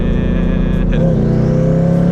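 A 1000hp street-driven drag car accelerates hard in third gear from about 50 mph; its loud engine note climbs sharply in pitch midway through as boost builds.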